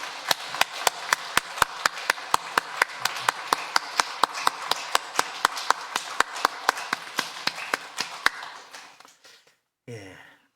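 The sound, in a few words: church congregation applause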